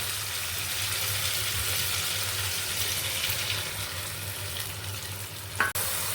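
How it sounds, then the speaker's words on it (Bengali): Ground spice masala, soaked in water, frying in a pan with ginger and tomato for a vegetarian stuffed aloo dum; a steady, close sizzle holds throughout, with one brief utensil clatter near the end. "এরপরে দিয়ে দেবো আমি এই গুঁড়ো মশলাটা, যেটা আমি জলে ভিজিয়ে রেখেছিলাম।"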